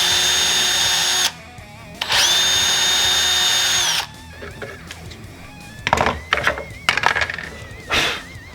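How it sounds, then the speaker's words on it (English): A power drill with a 1/16 inch bit bores hinge holes in two loud, steady whirring bursts of about two seconds each, followed by softer clicks and handling noises from the concealed hinge jig. "You're just going to drill those out with a 1/16 inch bit."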